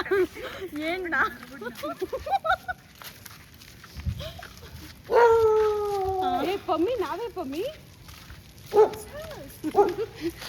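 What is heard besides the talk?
dog barking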